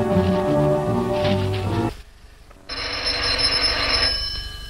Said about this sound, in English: Was that the doorbell or her telephone ringing?